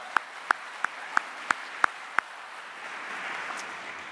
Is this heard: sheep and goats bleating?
no